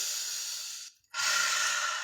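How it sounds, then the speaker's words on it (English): Steady, airy breathing during slow shoulder circles, a long inhale, a brief pause, then a full exhale, close and without speech. "Breathing in on the way up and exhaling on the way down."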